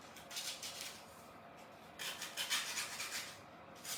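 Hand sanding of a thin layer of wood during a decoupage craft project, a soft, steady raspy rubbing in repeated strokes, fairly quiet and close, with no voices.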